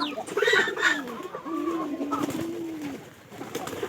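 Domestic pigeons kept at a home give close, clear coos, several soft throaty rolling calls in a row over quiet background.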